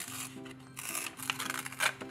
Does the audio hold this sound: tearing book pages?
yes